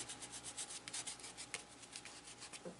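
An eraser rubbing out pencil lines on drawing paper: a soft, faint, rapid back-and-forth scrubbing with a steady rhythm of short strokes, close by and alone.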